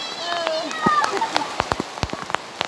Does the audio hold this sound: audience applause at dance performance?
no